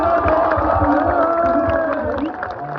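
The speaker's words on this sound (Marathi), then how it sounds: "आपले पोलीस बांधव आहेत त्यांच्यासाठी जोरदार टाळ्या वाजवा" A large crowd at a public gathering cheers and applauds for the police, a loud, dense, sustained roar of voices that holds steady for the whole stretch.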